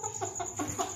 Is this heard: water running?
no